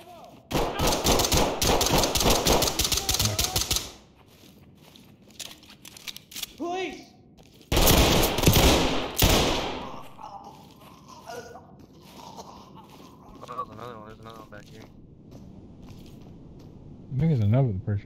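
Sustained bursts of automatic gunfire in Ready or Not, one long volley then a second after a pause, loud and close, with scattered shots and voices talking in between.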